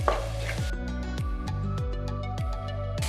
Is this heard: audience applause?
no